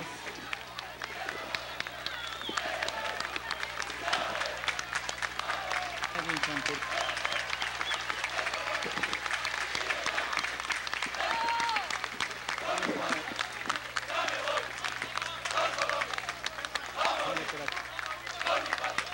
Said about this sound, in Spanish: que continúen los aplausos